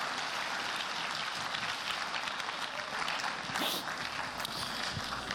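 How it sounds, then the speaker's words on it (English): An audience applauds student presenters at a school distracted-driving presentation, producing steady, dense clapping that holds at an even level throughout. "let's give these guys a round of applause."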